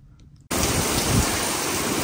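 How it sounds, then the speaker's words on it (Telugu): Heavy evening rain driven by wind pours down in Luxembourg, a sudden loud roaring wash after a brief quiet moment, dense and unbroken to the end. "ఇదిగోండి సాయంత్రం నుంచి ఒకటే వర్షం, బయటికి వెళ్దామంటే కూడా ఒకటి లేదు, అంతగానం వర్షం పడుతుంది చూడండి, గాలి వాన దంజిస్తుంది."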